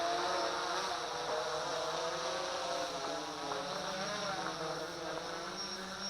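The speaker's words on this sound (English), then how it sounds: "Coming out of FAP and lowering the quadcopter" XK X500 quadcopter drone motors buzz steadily during a landing descent, a faint, even whine with a slight wavering pitch and no talk.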